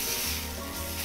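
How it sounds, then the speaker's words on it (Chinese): Beef fillet coated in salt and black pepper searing in a very hot oiled pan, a steady broad sizzle held throughout the short moment, close and fairly quiet. "牛排下锅去煎，让它上色。"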